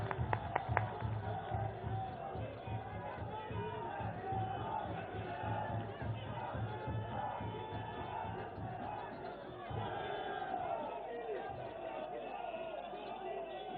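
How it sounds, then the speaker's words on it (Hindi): A large crowd at a Bihar election victory celebration roars and claps steadily for the prime minister's arrival, a dense, continuous wash of cheering and chatter that sounds muffled and slightly distant throughout. "तालियों के द्वारा मित्रों।"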